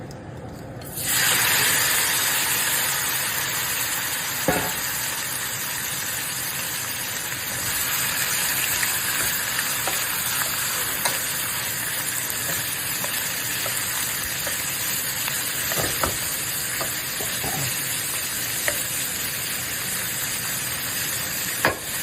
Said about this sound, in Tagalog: igisa po natin yung baboy.